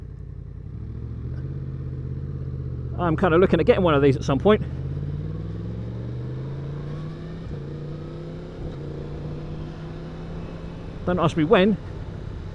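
A 2024 Yamaha MT-10 motorcycle on the road, its engine droning and rising in pitch as it pulls through the gears. A rider talks over the engine noise throughout, and louder wind and engine bursts come and go.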